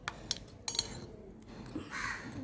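A spoon clinks against a bowl while mixing an oats breakfast, giving a few light, sharp taps close by over a quiet background.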